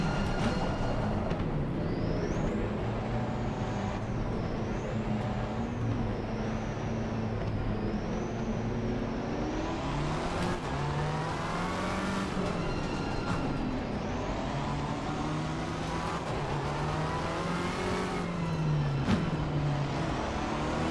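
A car driven through a few corners in a racing game, a steady engine hum whose pitch climbs and falls with each corner, plus a faint high whine, with no talking.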